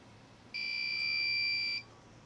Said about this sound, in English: Oh, the beeper works.